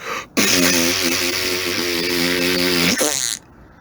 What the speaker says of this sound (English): let out the rumbliest, grumbliest, pant-splitting fart she had done in a very long time